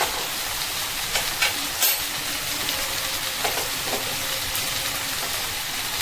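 Chili garlic sauce stirred into rice in a hot pan gives a steady, close sizzle and hiss with a few soft spoon scrapes, and no one speaks.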